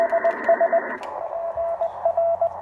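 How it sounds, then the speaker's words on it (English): Morse code keyed on an amateur radio, heard through a homemade narrowband audio filter and its speaker: a rhythmic single-pitch tone of dots and dashes, at first with wide hiss, then cleaner and narrower with less background noise. "That's my narrowband filter. And that's through using the speaker in the actual unit that I built."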